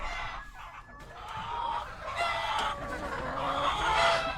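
Several chickens in a coop cluck and squawk close by, overlapping busily, with a crow-like call rising among them and the chatter growing louder toward the end.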